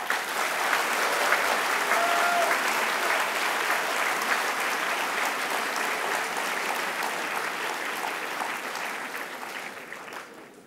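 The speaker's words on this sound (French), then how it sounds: "Je voudrais qu'on l'applaudisse très fort." A large audience at a graduation ceremony for ISEG Group claps loudly and steadily for about ten seconds, a dense wash of applause that slowly tapers off toward the end.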